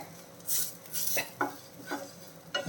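Snake gourd masala being stirred in a pan over a low flame, with close, intermittent scrapes and clinks of a spoon against metal over a faint sizzle.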